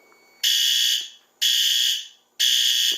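A fire alarm panel's piezo, an MS-9200UDLS system, beeps three times in a steady rhythm, each loud shrill tone lasting about half a second and fading off before the next.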